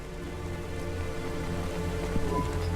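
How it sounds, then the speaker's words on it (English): Steady rain pours in the neon city of the video game Cloudpunk, a dense, constant hiss with faint tonal ambience underneath and no talking. "Don't let all the rain get you down."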